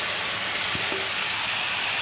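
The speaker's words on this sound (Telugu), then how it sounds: "అల్లం వెల్లుల్లి పేస్ట్, ఉల్లిపాయ పేస్ట్ అన్నీ కూడా పచ్చివాసన పోయేలాగా వేయించుకొని ఇందులో మనం చికెన్ వేసుకోవాలి" Chicken pieces frying in onion paste and ginger-garlic paste for a spicy curry give a steady, close hiss of sizzling oil, with a faint brief stir in the middle.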